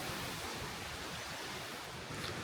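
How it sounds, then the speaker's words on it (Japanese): A river flows beside a walking trail near a waterfall in Gifu, a steady broadband rushing wash of water that stays constant and fairly near, with no voices. "川の音がね、心地いいわ。"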